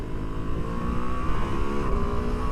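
A Ducati Multistrada V2 S motorcycle accelerates hard into a wheelie, its engine note rising in a loud, continuous rev heard close, over steady wind rush.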